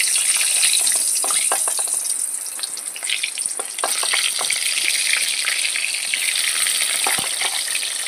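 Boiled potatoes sizzle loudly in hot oil in a wok for Kashmiri aloo dum. A bright, constant frying hiss runs under scattered clicks and scrapes from stirring.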